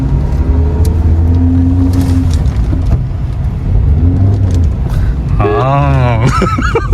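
Inside a new car driving on the road, a low engine hum and road rumble run under close conversation, with a rising tonal whine near the end.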